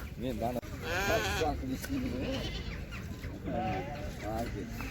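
Ewes with lambs bleat nearby in several quavering calls, some overlapping, amid a noisy background of voices and livestock at a livestock market in Uzynagash.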